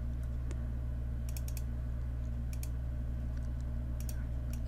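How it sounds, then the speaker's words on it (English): Computer keyboard typing at close range, with short bursts of light key clicks spaced by pauses over a steady low hum while entering Excel VBA code. "So first we need to type name of our text box"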